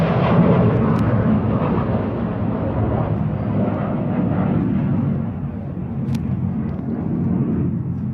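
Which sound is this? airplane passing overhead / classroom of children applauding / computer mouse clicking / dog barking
airplane passing overhead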